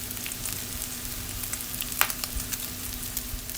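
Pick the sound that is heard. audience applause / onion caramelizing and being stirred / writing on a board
onion caramelizing and being stirred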